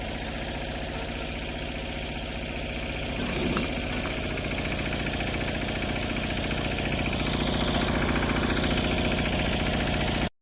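A steady engine idles throughout with a constant low rumble and mechanical knocking, growing slightly louder after a few seconds; no one speaks.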